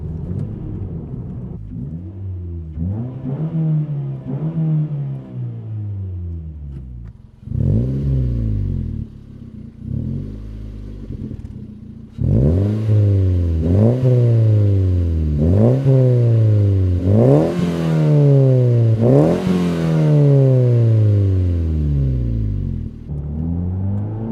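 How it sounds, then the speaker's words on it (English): A 2011 Mazda 2 with a Magnaflow muffler revving repeatedly, the deep throaty exhaust note climbing and falling in a series of rises, with brief idle gaps, then a quicker run of revs near the end. "The Magnafoil muffler does make some very nice sounds."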